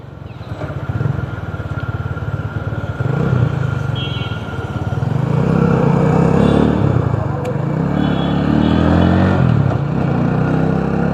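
Motorcycle pulling hard in second gear on a road ride, engine note rising steadily with strong wind rush, loud and close for the full stretch.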